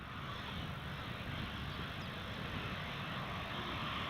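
Loganair plane arriving at Newcastle Airport in a strong crosswind, a steady broadband engine roar holding evenly throughout, with no voices over it.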